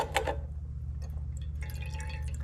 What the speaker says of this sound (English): let it drain just a second